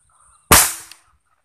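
A single loud gunshot fired at a bird, a sharp close blast that decays over about half a second, with only faint background noise before it.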